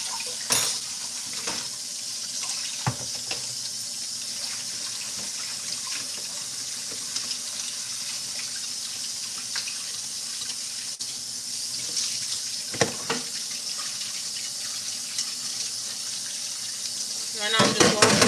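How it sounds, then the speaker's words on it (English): Tap water runs steadily into a kitchen sink while a plate is rinsed beneath it, a continuous near hiss with a few faint clinks and a louder splash near the end. "Right now I'm just washing this plate."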